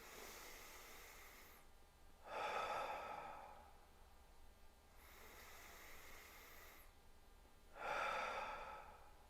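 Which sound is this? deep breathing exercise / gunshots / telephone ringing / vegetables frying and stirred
deep breathing exercise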